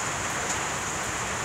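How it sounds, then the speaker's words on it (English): Rain falling outside, a dense, even hiss of steady rainfall filling the whole moment without voices. "Yeah, it is really raining."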